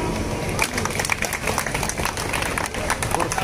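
Audience applause at an Independence Day celebration held by a temple committee, dense steady clapping from a crowd filling the whole stretch, with voices mixed in.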